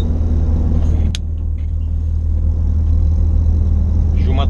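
A manual transmission car pulling away in second gear after the handbrake is released, with a loud, steady low engine rumble heard from inside the cabin and a sharp click early on.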